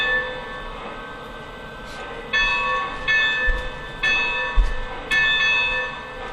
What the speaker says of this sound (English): You can do a single head bell if you want to.